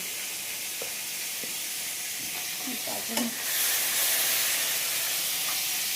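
Fish sizzling in mustard oil: a steady, close frying hiss runs throughout, with a few soft pops and clinks, growing briefly louder midway, with no talking.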